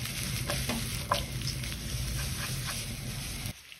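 Pasta tossed into a pan of light olive oil, a close sizzling fry with scraping stirs and a couple of sharper clinks, stopping abruptly at the end, no talking.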